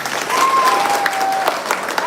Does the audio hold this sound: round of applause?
yes